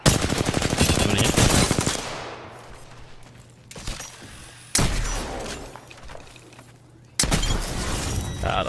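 Gunfire in the Apex Legends video game: a rapid, loud automatic burst for about two seconds, then separate heavy shots and short volleys with quieter gaps between them.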